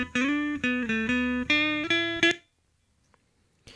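Guitar played through a Softube amp model on its initialized preset in Reason 8, a short phrase of bright picked notes and chords for about two seconds, close and clear, then silence.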